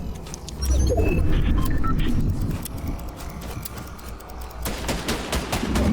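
Rapid bursts of pistol gunfire crack through a noisy Fortnite soundscape, several quick shots layered over rumbling background action.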